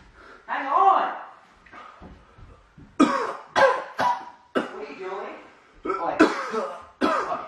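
Several harsh coughs burst out in short clusters, interspersed with distressed breathing and brief vocal sounds, close to the listener.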